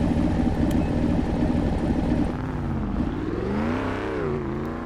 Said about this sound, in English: That car does sound really good, though.